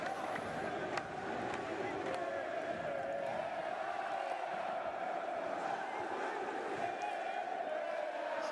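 Tunisian home crowd at a basketball game roars steadily, a dense continuous wall of voices and cheering that stays loud throughout with no break.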